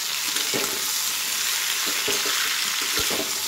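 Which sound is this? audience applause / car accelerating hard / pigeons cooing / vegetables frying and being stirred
vegetables frying and being stirred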